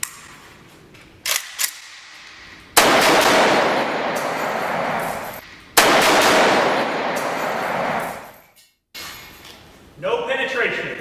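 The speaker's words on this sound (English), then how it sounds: "This is my AK-47, and today I get to shoot my boss." An AK-47 fires a couple of short pops, then two long, loud, sustained bursts of automatic fire, followed by a brief silence and a rougher noisy stretch at the end.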